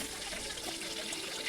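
Coconut oil pouring into a pan for making ghee rice, a steady close trickle of liquid with no talk.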